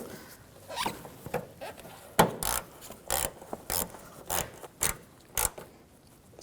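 A ratchet tightens headlight assembly bolts on a 2007-2013 BMW 328i: a run of sharp, evenly spaced rasping clicks, close and fairly loud, with short pauses between strokes.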